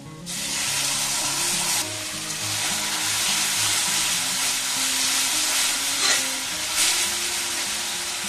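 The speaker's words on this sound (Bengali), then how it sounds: "এবার আমি দিয়ে দেবো আদা, রসুন, কাঁচা লঙ্কা আর টমেটো আমি একসাথে বেটে নিয়েছি, এটা দিয়ে দেবো" A ground paste of ginger, garlic, green chilli and tomato sizzles loudly in a hot pan over fried onions, a steady close frying hiss with brief stirring scrapes, no voices.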